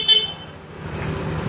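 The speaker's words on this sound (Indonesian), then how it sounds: "Ini suara klakson standar" Stock original horn of a new Yamaha NMAX scooter gives one short, close, bright beep, then fades into low background noise.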